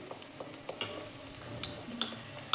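Spinach puri fries in hot oil with a soft continuous sizzle, broken by light clinks and scraping taps from a utensil in the pan, fairly quiet and close.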